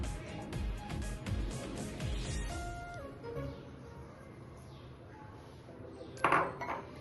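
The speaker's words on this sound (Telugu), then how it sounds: "ఇది మంచిగా మిక్స్ చేసుకోవాలి." Chicken cutlet mixture with salt, coriander and mint being mixed by hand in a bowl, with soft clinks and scraping against the bowl throughout, fairly close, and a brief sharper clatter near the end.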